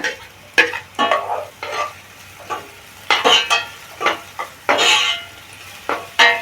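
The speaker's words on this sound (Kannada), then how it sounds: "ಹಸಿಮೆಣ್ಸಿನ್ಕಾಯಿ ಮತ್ತು ಈರುಳ್ಳಿ ಚೆನ್ನಾಗಿ ಫ್ರೈ ಆಗಬೇಕು" Chopped green chillies and onion frying in a pan for bun dosa batter, stirred with a spatula in repeated quick scrapes and clatters over a soft sizzle, close and fairly loud.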